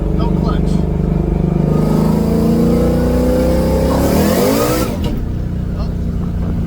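A Coyote-swapped GT500 with a T56 gearbox revs loudly and close, the engine pitch climbing through a high-rpm pull before a clutchless shift drops the revs, with a voice speaking briefly over it.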